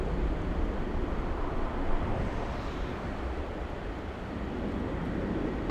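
Broad, steady jet rumble from an Atlas Air Boeing 747 at Los Angeles airport, a continuous roar that stays fairly loud from start to finish.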